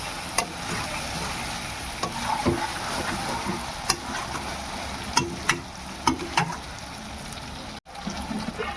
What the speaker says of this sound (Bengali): এবার মশলাটা দিচ্ছি, মশলাটাও ভাজা হবে, মাংসের সঙ্গে পুরো ঢুকে যাবে।